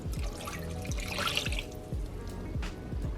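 Water trickles and splashes into a cooking pot holding apricots, a steady close pour with bubbling, gurgling pulses and no talking.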